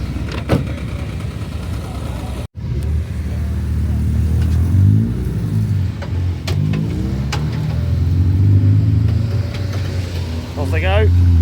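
Honda race cars pull away at Brands Hatch, engines droning and rising in pitch as they accelerate, with a door thud, some clicks and nearby voices talking over the engine noise.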